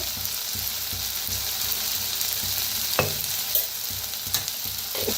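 Spices such as turmeric and red chili powder roast in hot oil in a pan for an onion-lentil dish, with a steady sizzle and intermittent scraping stirs of a spoon, close up and without talk.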